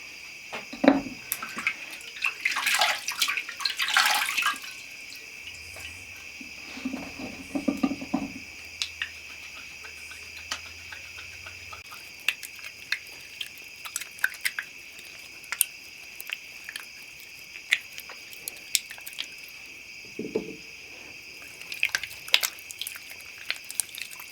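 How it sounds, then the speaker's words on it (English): Water splashes and trickles as a face is washed in an 18th-century nighttime skincare routine, with a few soft bursts early and scattered drips later over a steady, quiet insect-like chirring. "I gotta wash my face, and I will be in bed soon."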